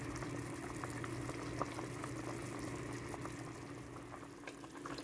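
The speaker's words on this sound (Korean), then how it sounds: "소고기, 미역국이 맛있게 끓어오르고 있습니다." Pot of beef and seaweed soup made with brisket and shank at a steady boil, soft continuous bubbling and simmering close by, fairly quiet, with no voices.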